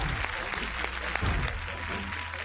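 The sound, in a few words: applause for Sandeep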